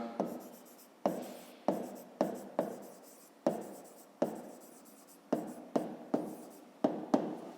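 A pen writes by hand on paper for a fifth-grade maths exercise, a series of about a dozen short scratchy strokes in an uneven rhythm, each starting sharply and fading, close and fairly quiet.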